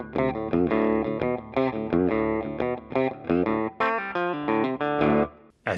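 Electric guitar played through a Fractal deluxe reverb cabinet impulse response with a medium plate reverb in parallel, bright and biting, rhythmic strummed chords and riffs with short gaps, loud and alone.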